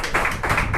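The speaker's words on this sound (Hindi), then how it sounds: "ताली बजाएंगे प्रभु यीशु मसीह का।" Congregation clapping at a Thursday church healing service, in three loud rhythmic bursts of applause at close range.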